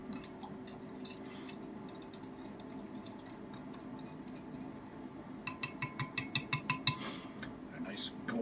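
A spoon stirs brown sugar into Irish whiskey in a glass, a quick run of bright clinks against the glass near the end after a quieter stretch with low room hum.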